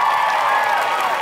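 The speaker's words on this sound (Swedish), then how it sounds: "En stor applåd till mina tjejer." A concert crowd in Malmö cheers and applauds, a brief, loud, sustained roar of voices with shrill cries riding over it.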